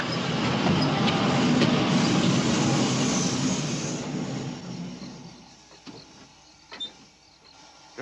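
Steam train running on a frontier railway line, a loud broadband rumble and hiss of the moving engine and wagons that fades down over several seconds, leaving a quieter background with a few brief clanks near the end.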